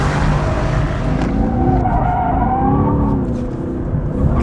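Tires squealing as a Mercedes AMG GT S or Porsche 911 GTS sports car slides through a corner, with a loud, steady engine roar beneath a wavering, rising and falling screech.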